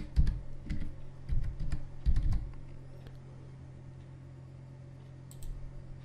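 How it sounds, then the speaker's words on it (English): Quick clusters of keystrokes on a computer keyboard while a password is entered during setup of a TP-Link portable 3G/4G wifi router, three short bursts of clicky taps followed by quiet room hum. "I'll just type different password here."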